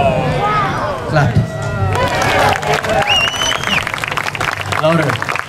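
An audience at the Paradise Cove luau claps and cheers in a lively outdoor crowd, while a host speaks loudly over the bursts of applause.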